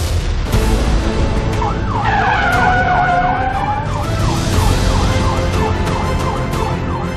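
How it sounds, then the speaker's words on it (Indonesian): A wailing ambulance siren sweeps up and down repeatedly, loud and close, over a constant rumble of traffic. "Ambulans yang Arya tumpangi dibegal."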